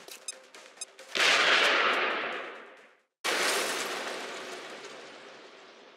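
Two heavy grenade blasts from the XCOM: Enemy Within video game, each a loud, close burst that rumbles and fades over a second or two, with a brief silence between them.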